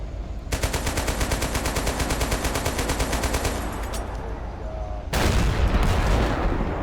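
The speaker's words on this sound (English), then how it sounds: "in real life, this is supposed to be a 30mm chain gun. But in the game, it sounds like a 50 cal" A 30mm vehicle chain gun in the Total Conflict: Resistance video game fires a long, rapid, steady burst of heavy shots. It then breaks off, and a louder, rougher blast of fire follows.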